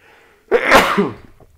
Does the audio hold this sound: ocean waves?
no